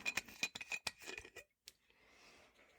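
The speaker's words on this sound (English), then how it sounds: "by crack it open I mean twist off the cap because it's super fancy" A screw cap twisted off a bottle of Fighting Cock bourbon whiskey, heard as a close run of quick crisp clicks and ratchety scrapes that stops abruptly, followed by a faint soft rustle.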